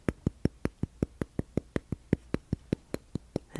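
About eighteen evenly spaced taps on a hard object of unknown material, crisp and close, with a brief rustle at the very end and no voice.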